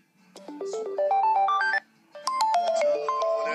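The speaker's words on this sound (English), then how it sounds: "It's ringing." A phone ringtone plays loud and close as a bright electronic melody, a rising run of tones followed by a brief pause and another tinkling phrase, with no voices.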